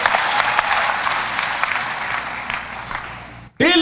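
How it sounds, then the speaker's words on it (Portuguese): Church congregation bursts into sustained, dense applause at a sermon, loud and even for several seconds before stopping abruptly, followed by a brief voice. "Adorem a Ele com um aplauso."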